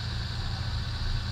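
A car engine idles steadily during warm-up, a continuous low rumble with a faint hiss on top, close by and unchanging, with no voices.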